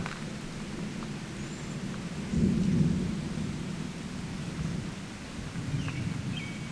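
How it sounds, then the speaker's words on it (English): Distant rolling thunder from a big thunderstorm, a low rumble swelling midway and fading off, heard outdoors with faint rain and rustling in the background. "Still a big thunderstorm."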